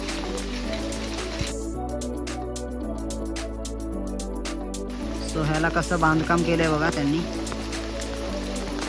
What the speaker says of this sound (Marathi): ते पाऊस पण पडतोय थोडा थोडा